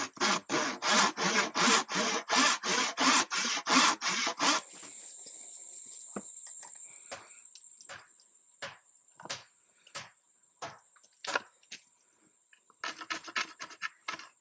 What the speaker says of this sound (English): Now that's a way to chisel right there.